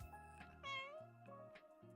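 A cartoon cat in the video game Itty Bitty Toilet Kitty meows several times in quick succession, with short bright calls over a low game music bed.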